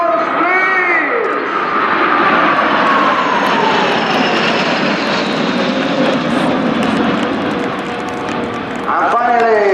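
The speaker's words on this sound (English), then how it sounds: "Patrulla Aguila flying in Japan formation" Patrulla Aguila aerobatic jets fly past in formation at the Royal International Air Tattoo at Fairford, a loud sustained engine roar with shifting pitch as they pass, under a public-address announcer and crowd noise.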